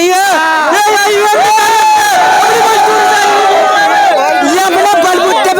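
A large crowd of young Chandra Shekhar supporters at a political rally chants and cheers loudly, a dense unbroken roar of many voices shouting together throughout.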